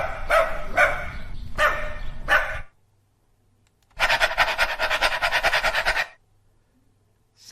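A dog sound effect: a quick burst of several sharp barks, a pause, then a longer rapid run of barking, loud and close with nothing else around.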